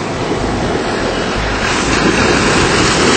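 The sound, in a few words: sea waves on the Caribbean coast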